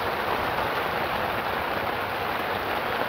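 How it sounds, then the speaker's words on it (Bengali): Heavy rain pours down in a village, a dense, steady wash of drops drumming on surfaces, loud and unbroken throughout, with no voices. "বৃষ্টির যে সাউন্ড দুর্দান্ত একদম। আরও জোরে জোরে বৃষ্টি আসছে।"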